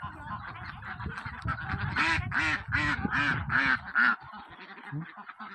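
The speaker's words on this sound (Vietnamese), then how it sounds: "Nuôi vịt, bà con mình nuôi vịt nè cả nhà." Farm ducks quack loudly in a dense, overlapping chorus of nasal honking calls, close by in a rural rice-field setting, swelling toward the middle and then thinning out.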